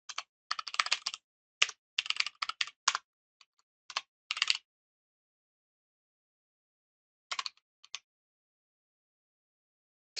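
Bursts of computer keyboard typing while writing SystemVerilog code, quick clusters of key clicks with pauses between, close and clear, no talking.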